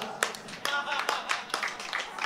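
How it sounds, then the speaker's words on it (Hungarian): Audience applause at a festival comedy show for a fan in a Guns N' Roses sweater, scattered, uneven clapping with distinct close claps in a short burst. "Nagy tapsot a Guns N' Roses-nak!"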